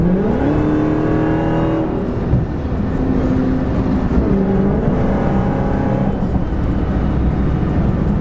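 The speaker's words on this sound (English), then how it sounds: "That McLaren is stupid fast. I can't even keep up." A widebody Dodge Hellcat Charger on 26-inch wheels racing a McLaren 570S, heard as a loud sustained engine roar from inside the car with rising and falling revs.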